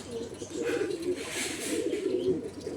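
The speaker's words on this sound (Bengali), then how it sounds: "খুবই ছটফটে পায়রা" Madrasi pigeons coo in soft, low, repeated throaty rolls at close range, with faint chirps and some background noise.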